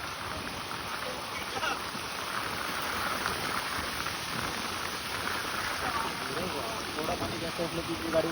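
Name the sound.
rain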